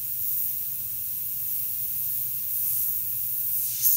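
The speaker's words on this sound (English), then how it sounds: "Spray it, and it will leave a naturally diffuse edge so that it is not too crisp and stencil looking" A GSI Creos PS270 airbrush sprays paint in one continuous, even hiss lasting the whole moment, close and steady with a slight rise at the end, no voices.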